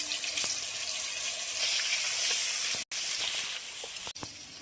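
Ginger, garlic and green chili paste sizzling in hot oil with cumin, whole garam masala, bay leaves and dried chilies for an egg curry, a bright steady hiss that swells partway through, broken by two brief cutoffs.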